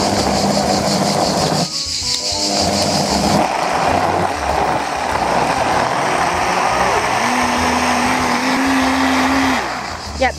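A kitchen blender whirs loudly and steadily for about ten seconds, churning fish soup ingredients for a Marseille-style fish soup, its motor pitch dipping briefly and shifting as the load changes.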